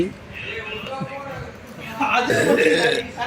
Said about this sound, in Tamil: இவ்வளோ பெரிய ஏப்பம்